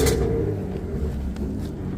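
Audi A6 3.0T with the middle muffler cut out, mid pipes welded in as an X-pipe and the stock rear muffler kept, revving with a steady, loud raspy exhaust drone for the whole stretch.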